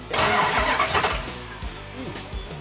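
A car engine started by remote starter cranks and catches, settling into a rough idle with a few small revs; no one speaks during it.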